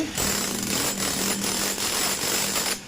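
A heavy 1800-watt chipping machine hammers into a wall in rapid, loud, relentless bursts, briefly pausing between blows, close up with no talking.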